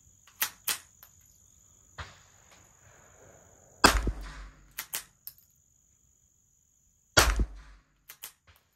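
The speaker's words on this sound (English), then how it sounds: "Sounds like a cap gun." Ruger Mark IV pistol fitted with a Volquartsen spring kit, firing dirty ammunition: a few sharp, snappy cap-gun-like cracks in separate bursts, each followed by brief clatter, with quiet gaps between.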